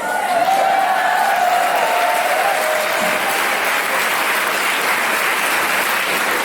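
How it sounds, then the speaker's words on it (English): Audience at a live conversation event breaks into sustained, dense applause, loud and steady throughout with a faint voice briefly over it near the start. "let's give ourselves a round of applause"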